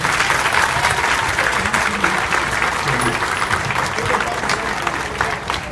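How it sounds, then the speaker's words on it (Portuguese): A church congregation claps together in a sustained, dense round of applause that stays even and loud for nearly six seconds. "Uma salva de palmas."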